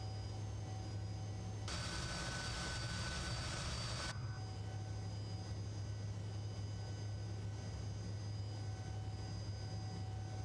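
Fokker F28 jet engines in Microsoft Flight Simulator 2024 hum with a steady, quiet drone and a low tonal whine, briefly joined by a louder broadband rush of air before settling back to the even engine hum.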